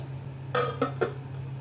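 A metal lid is set onto a cooking pot of pumpkin curry after stirring, giving three quick, light clinks close by in an otherwise quiet kitchen with a steady low hum.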